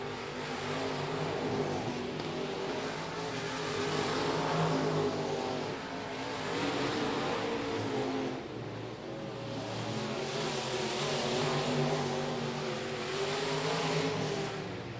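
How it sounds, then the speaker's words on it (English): Race car engines roar around I-37 Speedway at a distance during a night race, rising and falling in waves as cars pass, one motor struggling at the end of the straightaways, with a constant crowd-like wash of noise. "The 91 machine of Maupin sounds like that motor's having a little trouble at the end of the straightaways"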